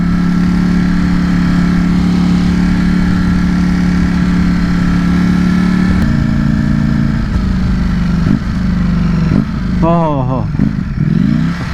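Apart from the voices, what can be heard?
Ducati Streetfighter V4S motorcycle engine revving, downshifting with rev matching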